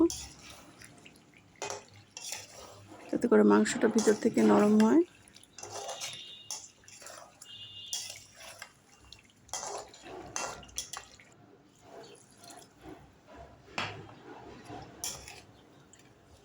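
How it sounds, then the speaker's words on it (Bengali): Water is poured into a pot of simmering country chicken curry, a short burst of splashing pour lasting about two seconds. Scattered clinks of utensils follow, and someone talks throughout. "আমি কষানোর জন্য কিন্তু আরেকবার একটু পানি দিয়ে দিব"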